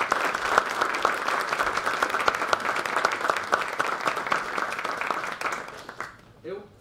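An indoor lecture audience breaks into steady, dense applause for a speaker on UFOs, sustained for several seconds before fading out as a voice begins.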